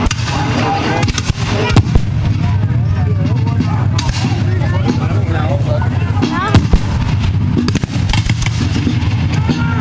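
Muskets fire at a historical battle reenactment in a busy outdoor scene with continuous crowd noise and talking, scattered sharp reports cracking through the din.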